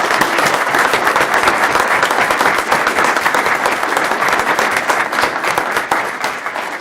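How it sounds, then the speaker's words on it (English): A roomful of people gives a sustained round of applause for a girls' sports team at a city council meeting, dense steady clapping that holds for several seconds before tapering slightly. "A nice round of applause for the girls."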